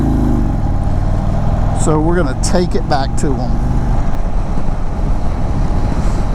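A 2022 Indian Chief Bobber Darkhorse motorcycle being ridden on a road, its engine drone buried under heavy rushing wind buffeting the microphone, with a rider talking briefly over it.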